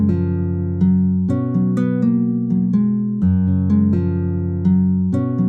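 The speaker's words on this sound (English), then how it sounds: "So the same melody with the nylon strings sounds like this" A nylon-string guitar melody from a VST plugin, plucked notes over low sustained bass tones in a steady, flowing rhythm, close, loud and with no talk.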